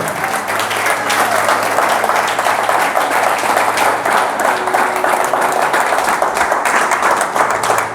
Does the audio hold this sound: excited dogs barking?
no